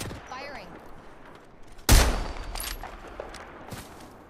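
Gunfire in the video game Apex Legends: a single loud, close shot booms and decays, followed by fainter distant shots. Game voice chatter is heard before it.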